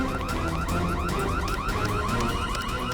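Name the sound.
alarm ringing in a stuck lift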